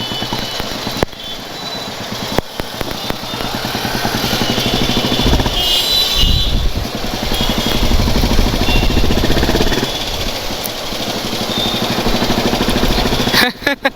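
A 60-year-old Royal Enfield Bullet motorcycle thumps along on a ride, its single-cylinder engine pulsing loud and close with a steady, rapid beat that swells and eases with the throttle, with wind noise over it.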